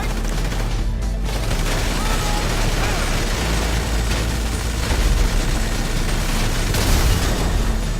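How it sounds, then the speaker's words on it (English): Minigun firing at a car in GTA 5, a dense, continuous, loud barrage of rapid gunfire with booming impacts that never lets up. "Look at how long it takes just for the minigun to start burning the car."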